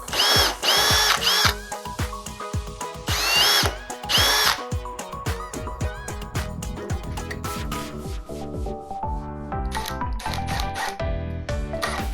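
A power drill pre-drills wood for an aquarium stand, with several loud close bursts of whining motor speed and short pauses between them, then a longer sustained run that winds down.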